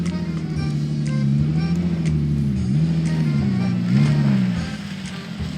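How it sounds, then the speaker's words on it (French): A Volkswagen Phaeton W12 rolls slowly along a narrow path with a steady, close engine drone. The tone rises and falls gently as it moves, and the sound eases off toward the end. "La voiture passe sans aucun problème."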